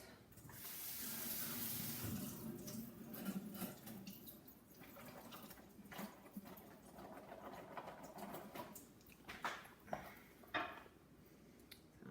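Cherry tomatoes rinsed under a running kitchen tap, a steady broadband water rush filling the first seconds, then choppier splashing and clinks as the tomatoes are handled beneath the flow.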